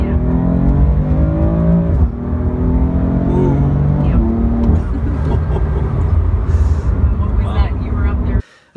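A BMW M4 with a dual-clutch transmission accelerates hard, its engine note climbing loudly and dropping abruptly at rapid gear changes before cutting off at the end.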